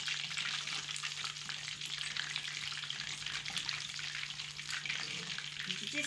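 Fish for Lahori-style fried fish crackles in hot oil with a steady, dense sizzle that holds at an even level throughout, backed by a faint low hum and no talking.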